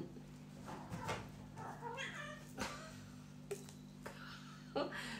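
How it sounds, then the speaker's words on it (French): A pet cat meows loudly several times in a row, close by, with drawn-out caterwauling cries between pauses, over a low steady hum and no talking. "c'est que mon chat, on dirait Tarzan des fois"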